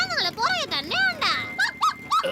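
Cartoon dog from Motu Patlu barking and yelping in quick bursts as it chases someone, with a loud voice talking over the yips.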